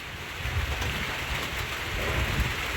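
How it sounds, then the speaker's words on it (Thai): Steady rain falls with a continuous hiss and patter, with a low rumble underneath that could be distant thunder. No one speaks. "ฝนตกนะฮะ"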